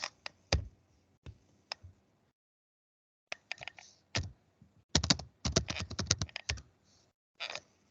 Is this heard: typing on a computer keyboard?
yes